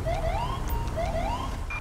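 A police car siren in the GTA 5 video game wails in rising and falling sweeps, loud and continuous, with no talking over it.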